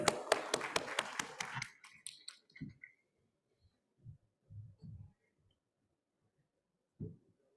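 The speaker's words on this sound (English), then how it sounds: "A great round of applause," At a professional conference session, a handful of people clap briefly and sparsely, and the claps thin out into a few scattered faint taps and soft thumps in a quiet hall.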